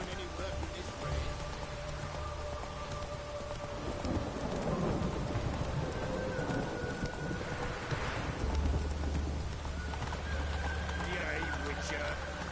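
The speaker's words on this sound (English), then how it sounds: "No use doing any work in this rain." Rain and thunder in The Witcher 3: Wild Hunt, a steady hiss of rainfall with a low rolling rumble swelling midway, with a character speaking over the storm.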